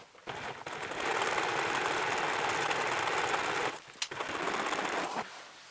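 Sewing machine running steadily while stitching seams in fabric for a drawstring pencil case, a continuous whirring buzz that stops briefly near the end, then resumes for a short burst.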